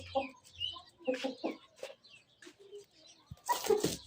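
Several short clucks and murmuring calls from a hen nearby, irregular and close, with some rustling and a brief flurry at the end.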